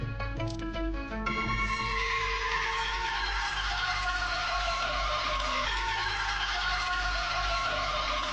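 An Arabian horse whinnies loudly in a long, wavering neigh that rises and trails off, set against a busy background of other sound with no talk.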